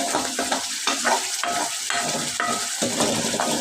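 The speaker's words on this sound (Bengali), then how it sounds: "দেখেছো বন্ধুরা মাছটা এভাবে কষিয়ে নিতে হবে" Sarpunti fish being stirred and fried in a spicy masala, a steady close sizzle broken by repeated scraping strokes of a spatula against the pan, with no voices.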